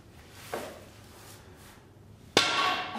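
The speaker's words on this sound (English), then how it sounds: "Nailing this nail into the board." A hammer strikes a nail into a wooden board: a faint knock early on, then one sharp, loud impact with a bright ringing tail, heard close by with no talking.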